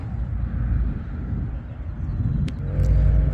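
Ford Mustang pulling out as a car meet breaks up at Ecopa Stadium in Shizuoka: a steady low engine rumble, swelling louder toward the end.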